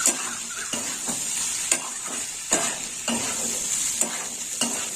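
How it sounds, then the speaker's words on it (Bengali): Green peas and khoya being stir-fried in a pan: a continuous close sizzle with rhythmic scraping strokes of a spatula roughly every second, each stroke swelling the hiss briefly. "এভাবে কষে নিতে হবে আর একটু কষা হবে"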